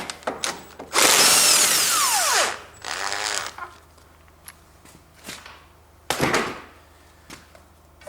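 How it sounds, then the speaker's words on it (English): An electric driver unscrews 10mm bolts from a snow blower, with a loud whirring burst of over a second, a shorter run after it, another brief burst later, and small clicks and clatter in between. "10mm bolts, and I use my electric driver"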